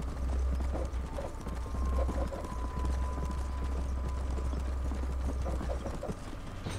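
Horse hooves clip-clopping steadily in the Western video game Red Dead Redemption, a continuous rhythmic trot over a low ambient hum, moderately close and without speech.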